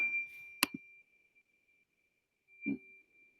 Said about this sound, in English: I'm going to chime the fork first and hit collect